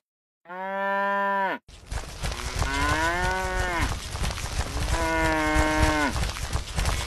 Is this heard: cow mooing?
yes